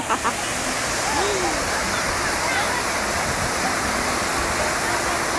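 Fountain water at the TV tower pours in a steady, loud broadband rush throughout, with people talking faintly over it.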